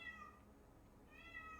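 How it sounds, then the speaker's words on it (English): A cat meows loudly and drawn-out, indoors close by, the wavering cry fading mid-way and then rising again near the end. "my cat's very loud."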